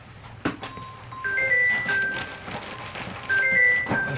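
A mobile phone rings with a short electronic melody of bright repeating tones, heard twice in quick bursts against quiet room noise and faint handling sounds.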